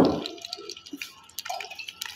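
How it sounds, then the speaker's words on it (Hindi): Water is poured into a pan of sugar and oil to make syrup for peanut halwa: a short splashing gush at the start, then soft scattered drips and small liquid sounds, close and fairly quiet. "अब मैं 1 गिलास पानी शामिल करूंगी और अब मैं इसकी चाशनी बनाऊंगी।"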